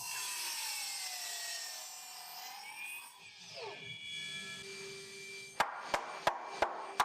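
A saw cuts through a wooden rail for a driveway gate, with a long whining cut that winds down, followed by five sharp, evenly spaced knocks close by, and no talking.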